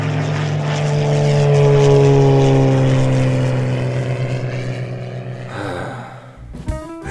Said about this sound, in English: Hey, Mario, you see the airplane?